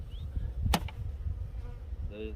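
Honey bees buzz around a hive knocked over in a winter storm, a faint steady hum close by, broken once by a sharp knock midway.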